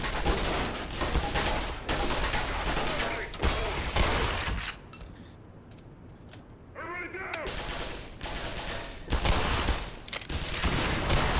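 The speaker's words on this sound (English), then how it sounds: "Oh, these turrets." Automated turrets in Black Mesa fire in loud, sustained bursts of rapid gunfire. A quieter gap in the middle carries a short mechanical chirp, and then the heavy firing starts again.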